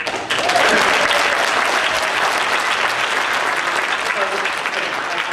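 Audience clapping during a US Senate debate in Michigan, a loud, dense burst of applause that starts abruptly and sustains with crowd noise throughout.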